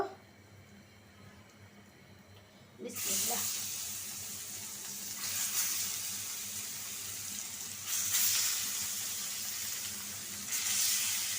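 Katla fish dropped into hot oil, a quiet start followed by a sudden loud burst of frying sizzle that holds steady, swelling now and then, close to the pan.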